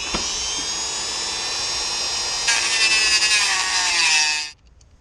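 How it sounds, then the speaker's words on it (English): A Dremel rotary tool grinds through an old hose clamp at the radiator hose of a 2000–2004 Nissan Xterra transmission oil cooler line, a steady high-pitched whine that rises and strains as it bites, then stops abruptly near the end. "so I'm going to try and Dremel it off."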